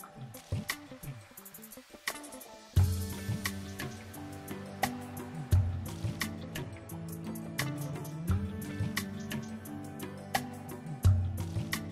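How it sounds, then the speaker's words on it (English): Homemade kombucha is poured into a container, starting with a few drips and then a gurgling, splashing fill that rises in pitch, with glugs repeating close by. "So all you do is pour in some kombucha."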